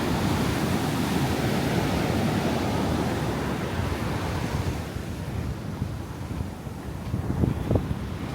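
Surf rolls in at Canggu Beach in Bali, a steady, close roar of breaking waves mixed with wind buffeting the microphone, easing slightly partway through before a few louder wash-ups near the end.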